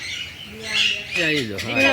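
A golden pheasant gives a few harsh, squawking calls close by, bunched together over about two seconds.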